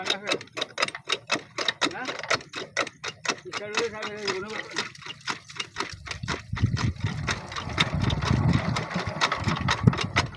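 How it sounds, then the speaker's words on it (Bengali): A shallow water pump engine is being started, misfiring on a weak battery, giving a rapid, steady train of sharp ticking pulses that settle into a rougher, fuller running sound, moderately close. "এই যে ইঞ্জিন স্টার্ট দেওয়া হচ্ছে"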